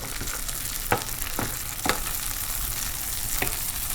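Washed barberries, about a cup, sauteing in a pan: a steady broadband sizzle runs throughout, with a few brief stirring scrapes standing out against it. No one speaks.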